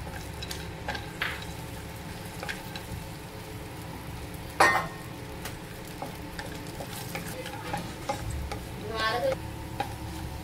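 Almonds roasting in ghee in a pan while making kheer, a steady soft sizzle with a spoon stirring and scraping, occasional ticks and one sharper clatter, close and even in level.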